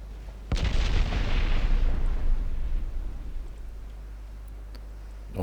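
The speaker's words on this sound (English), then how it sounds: "All torpedoes are away." Warship torpedoes launch in the naval game Ultimate Admiral Dreadnoughts: one sudden heavy boom and rushing blast that fades slowly over a few seconds above a low steady hum.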